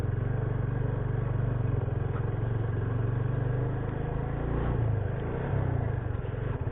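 Motorcycle engine labouring up a steep mountain slope in first gear on the road to Gurudongmar Lake in North Sikkim, a steady loud droning growl that holds for several seconds with slight surges.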